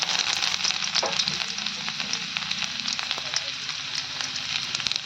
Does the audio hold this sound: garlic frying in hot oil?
yes